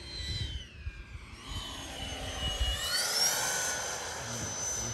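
FMS Rafale 80mm electric ducted fan RC jet passing overhead, its whining fan sweeping in pitch as it flies by at a moderate distance with steady outdoor background noise.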